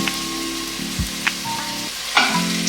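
Beef short ribs hit a Dutch oven full of loose juices, sizzling loudly and steadily up close, with a few sharp spoon or pan knocks.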